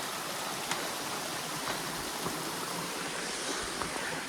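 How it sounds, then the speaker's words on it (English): Steady, broad rushing water fills the scene, a constant hiss and roar with no voices. "Actual waterfall this time."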